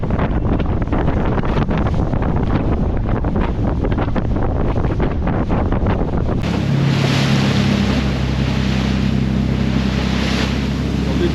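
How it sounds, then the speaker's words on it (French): Twin 400 hp diesel engines drive a boat across the sea off Iceland, a steady loud engine drone with a low tonal hum, buried under heavy wind noise and rushing water throughout. "We have 2 diesel engines of 400, so 800."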